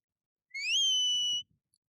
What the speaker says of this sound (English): it's quite a sharp whistle, and is a softer whistle